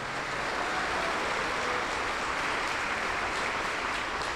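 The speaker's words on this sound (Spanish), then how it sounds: "Dele un aplauso para el Señor Jesús." A church congregation's applause for Jesus pours out as a dense, steady wash of many hands clapping together, loud and continuous throughout with no break and no talk on top.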